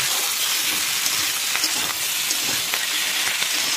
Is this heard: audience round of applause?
no